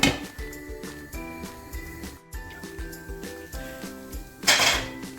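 Stir-fried vegetables clatter in a pan as utensils clink and scrape against it, then a lid goes on, a close, busy run of metallic knocks and rattles ending in a louder clang with no speech.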